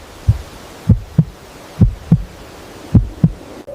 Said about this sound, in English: Inside each shell, a tiny heartbeat grows stronger with every passing day.